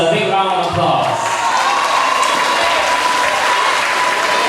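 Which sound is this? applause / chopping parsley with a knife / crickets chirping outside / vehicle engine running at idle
applause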